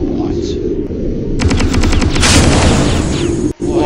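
Video game gunfire crackles in rapid automatic bursts with a loud, dense rattle that continues almost without pause.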